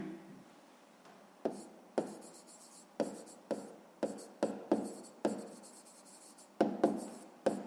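A pen writes out the working of a fifth-grade maths exercise, giving a series of distinct scratchy strokes and taps at an irregular pace. They are close and fairly quiet, with short pauses between strokes.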